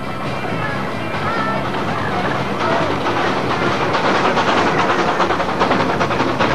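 Miniature park railway with a locomotive and coaches dressed as children's TV characters, running with a continuous rumbling, rattling rail noise and faint clatter, while a voice talks over it.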